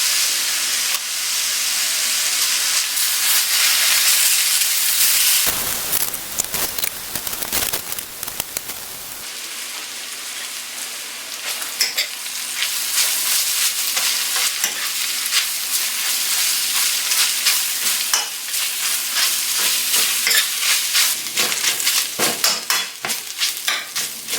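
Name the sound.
stirring chicken pastil frying in butter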